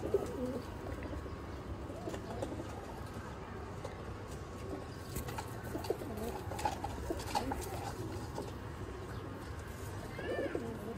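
Pigeons cooing in a breeding loft setup, soft repeated coos heard close over a steady background hum, while someone talks throughout.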